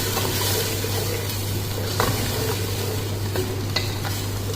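Chopped onion frying in hot oil in a pan while being stirred, producing a steady close sizzle with a constant low hum and occasional scraping clicks from the spoon.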